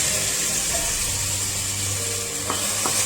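Marinated chicken with garlic ginger paste fries in a pan, giving a steady broad sizzle throughout with a couple of faint clinks near the end and no talking.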